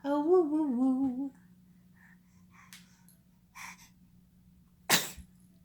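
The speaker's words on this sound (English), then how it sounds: "So much sneezes." A young child sneezes once, sharp and close, at the end of a quiet stretch that opens with a sing-song vocal, followed by a few soft breaths and sniffles.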